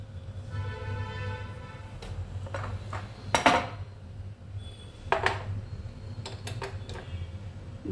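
A pesarattu, a moong dal crepe, being flipped on a hot pan: two sharp metallic scrapes and clanks from the spatula over a faint, steady sizzle and quiet kitchen hum.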